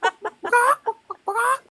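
People imitating chicken clucking with their voices, a quick run of short clucks followed by two longer squawking calls, close and loud with no other sound.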